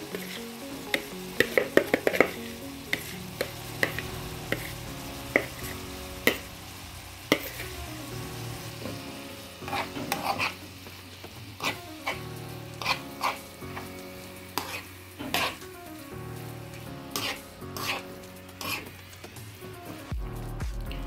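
Carrots frying with minced meat in a pan for stuffed crêpes, a continuous sizzle broken by repeated spatula scrapes and clacks against the pan, close and moderately loud, no talking.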